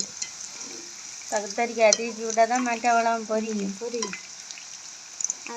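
Oil sizzles and hisses steadily as vegetables fry in a pan, while a person speaks briefly in the middle over the frying.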